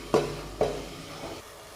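Onion masala for a homemade egg gravy sautéing in oil in a pan, two distinct scraping stirs over a soft sizzle, close and alone.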